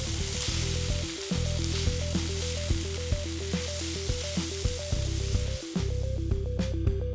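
Butter and meat sizzle steadily in a hot pan with a constant crackling hiss, under a repeating melodic music loop.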